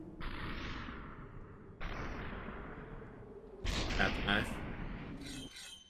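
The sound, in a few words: gunshots in Superhot VR video game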